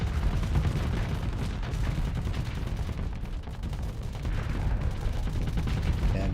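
Torpedo weapons firing and striking targets during a Starsector space battle, a dense, continuous wall of booming blasts and rumbling impacts that never lets up.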